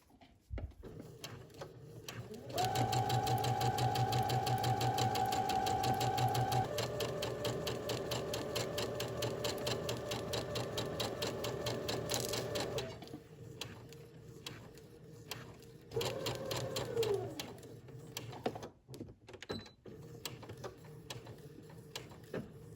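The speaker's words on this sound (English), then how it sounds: "continue sewing until you have sewn the entire placket or the entire cuff" A sewing machine stitches the cuff of a shirt dress, running in a long steady burst, pausing, then starting again in shorter runs with mechanical clicks between them.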